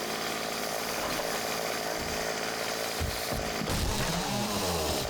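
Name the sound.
chainsaw in video game 7 Days to Die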